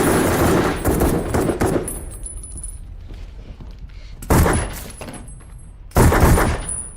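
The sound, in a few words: gunfire in a film scene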